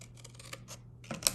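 Scissors snipping through paper or cardstock while making a heart-shaped gift box, a few soft close cuts ending in a sharper snip.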